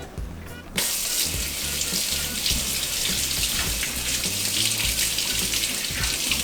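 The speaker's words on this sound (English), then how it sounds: "Make sure you rinse it good and thoroughly." Tap water runs steadily into a kitchen sink as a cheap steak is rinsed under it, a loud close continuous hiss and splash that starts abruptly after a brief quieter moment and carries on without pause.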